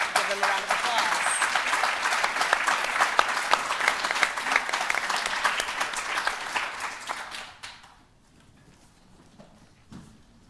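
A seated audience at a panel on responsible recruitment of women migrant workers claps steadily in dense applause for several seconds, then it tapers off quickly into a quiet room with a faint thump.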